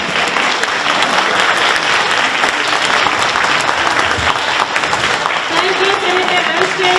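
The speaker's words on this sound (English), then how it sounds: "Big round of applause once again." Loud sustained applause from a crowd at a cultural event, dense continuous clapping throughout with a voice starting to speak toward the end.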